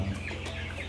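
Chickens cluck continuously inside a spacious poultry farm house, a dense flock heard close over a low steady hum.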